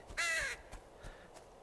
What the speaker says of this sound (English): As is that crow.